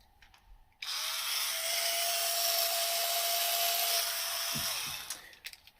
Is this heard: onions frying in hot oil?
no